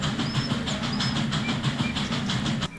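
Steam engine Thomas puffing along the railway, with a steady rhythmic chuffing and rolling clatter close by that cuts off abruptly at the end.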